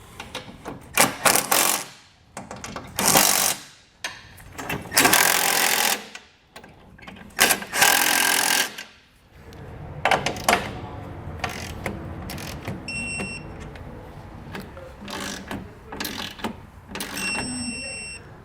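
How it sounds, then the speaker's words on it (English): Ratchet driving a 13mm socket to tighten M8 bolts on nerf bar brackets fitted to a vehicle's step, fast bursts of clicking repeated in several runs, close and crisp, with brief pauses and a voice between them. "Now we'll switch over to a 13mm socket and tighten all of our M8 bolts at the bottom here"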